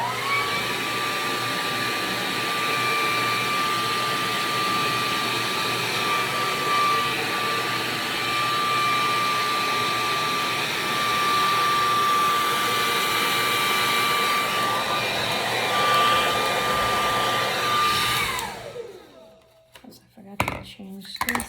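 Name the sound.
KISS Red Tourmaline ceramic hair dryer with brush running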